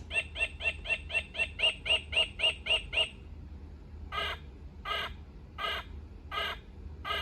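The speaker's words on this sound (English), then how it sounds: "White-breasted nuthatch." Electronic bird-clock chime playing a white-breasted nuthatch call: a rapid run of about ten nasal notes, followed after a short gap by four slower, evenly spaced calls, clear and close over a low steady hum.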